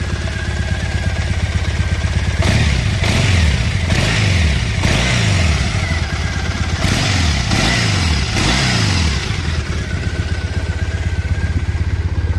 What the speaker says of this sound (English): Let me gently rev it.